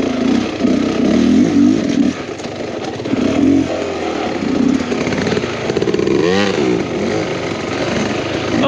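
A Beta Xtrainer 300 dirt bike climbs a hill off-road, its two-stroke engine loud and close, revving and bogging in uneven bursts with rising and falling pitch and some clattering over the terrain.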